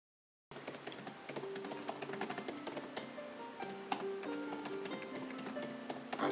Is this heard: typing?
yes